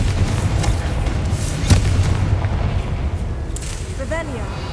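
Confringo spell explosion in the Hogwarts Legacy video game: one sharp, booming burst rises briefly out of a steady, dense rumbling ambience, followed by a few faint warbling tones near the end.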